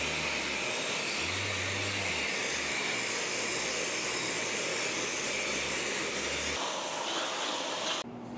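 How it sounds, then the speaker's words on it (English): Power sander smooths a painted wheel being prepped for primer, a loud steady high whine and hiss running close and continuous, cutting off near the end. "let's go over it with our sander."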